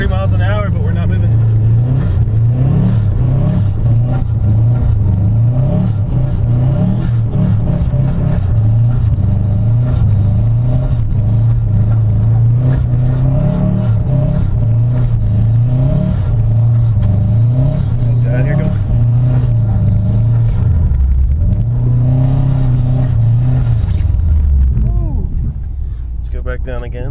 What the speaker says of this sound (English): We're doing 40 miles an hour, but we're not moving.